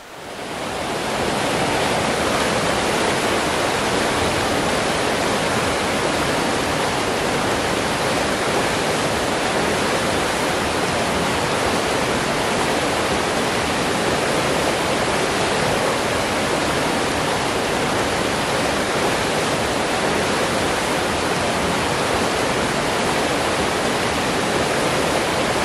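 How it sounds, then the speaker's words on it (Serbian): The Vrnjačka river runs swollen but still within its banks after recent flooding, giving a dense, unbroken rushing roar of fast water that stays loud and even throughout, with no voices. "Vrnjačka reka, koja se prošle nedelje na par mesta izlila, sada nadošla, ali i dalje u koritu"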